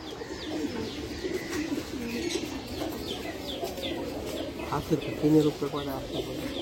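Pigeons in a loft of around fifty birds coo in low, soft, repeated calls, with scattered chirps and a muffled voice-like murmur running through the steady background.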